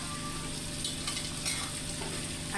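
Capsicum frying in a pan over medium flame gives a steady, continuous sizzle with soft stirring noises throughout, close and even, with no talking.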